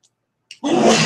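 A single loud, abrupt sneeze bursts out close by after a short silent pause.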